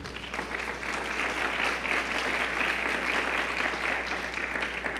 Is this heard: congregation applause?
yes